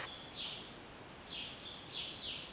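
Birds chirp outdoors near a coffee shop in Las Palmas, giving several short high tweets in separate bursts over a soft, steady background murmur.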